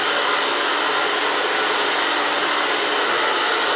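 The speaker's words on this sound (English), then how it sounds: "and dry it with a round brush" A hair dryer blows steadily while hair is dried with a round brush, a loud, even, continuous whoosh with no talking over it.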